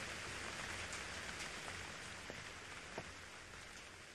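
Steady, hissing rainfall in a spooky horror video game forms a dense wash of patter, with a few slightly louder drops standing out.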